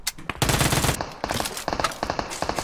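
Uzi submachine gun bursts in PUBG Mobile: a sustained rapid volley, then several short choppy bursts, loud and close with no talking.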